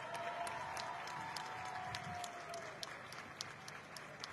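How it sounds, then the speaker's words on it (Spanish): Audience clapping at the launch of a health caravan event in the Laguna region of Coahuila, a diffuse, fairly faint patter of hands from a scattered crowd with a few sharper claps standing out, mixed with murmuring. "Más fuerte el aplauso, por favor."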